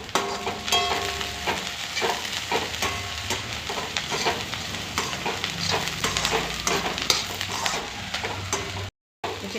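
Onions fry in a pan at home with a continuous crackling sizzle. A spoon scrapes and stirs through them in repeated strokes, close and fairly loud, until the sound briefly drops out near the end.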